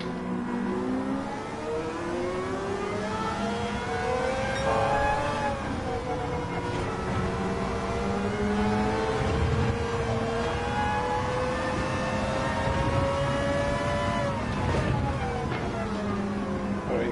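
Mazda Roadster engine in Gran Turismo 7 revving hard on the Tsukuba circuit, steady high-pitched drone rising through the gears with brief dips at shifts, loud and continuous throughout.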